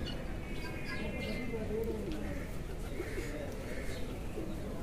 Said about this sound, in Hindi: ले दोस्तों ये एक कबूतर बैठ रहा है